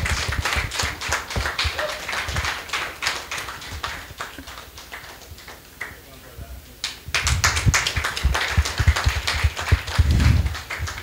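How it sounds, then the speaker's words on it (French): Audience at a conference on artificial intelligence applauds to welcome a guest speaker, scattered claps building into fuller, louder clapping midway, with a brief voice among the hands. "Nous allons recevoir avec des applaudissements bien nourris Monsieur François-Joseph Lapointe."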